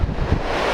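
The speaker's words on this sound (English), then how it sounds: "It hammers along pretty quickly, this boat, I tell you." Steady roar of wind and rushing water as a boat hammers along quickly across open sea at night, a loud, continuous wash with no voices.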